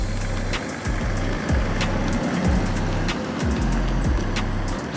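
A BMW 4 Series car driving, its steady engine drone and road rumble close and continuous, with repeated low swells as it moves along and faint clicks and whines from inside the cabin.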